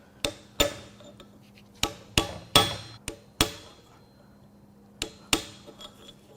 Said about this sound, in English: Let's try a hammer and a chisel.